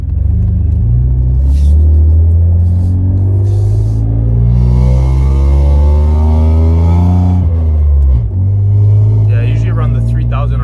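Toyota Tacoma engine fitted with URD extractor exhaust pipes and a Y-pipe, a loud continuous low rumble that swells as it revs, heard from inside the cab with a brief dip near the end.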